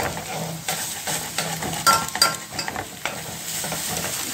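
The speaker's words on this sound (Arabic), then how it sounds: "قلبت البصل يا فرح" Onions fry in a pan on a gas stove while being stirred, giving a steady sizzle broken by repeated scraping and clinking of a utensil against the pan, loudest midway.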